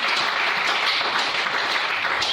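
A church congregation claps steadily and loudly in a dense, continuous wash of applause, with cheering voices mixed in.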